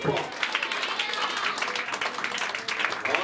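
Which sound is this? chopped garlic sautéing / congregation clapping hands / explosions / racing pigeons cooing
congregation clapping hands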